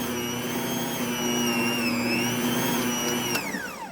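An electric mixer whirs steadily, working flour into pretzel dough, with a constant high motor whine that dips briefly and then winds down at the end.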